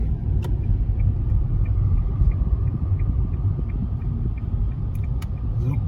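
A Nissan Magnite turbo car drives and accelerates, its steady low engine and road rumble continuous and fairly loud from inside the cabin, with a few faint clicks over the drone.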